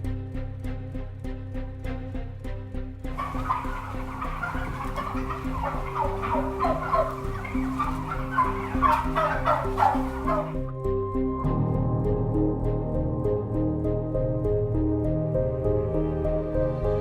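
Turkeys on a factory farm gobble over and over in a dense, overlapping chorus over a steady low hum of machinery, with the calls thinning out toward the end as the drone carries on.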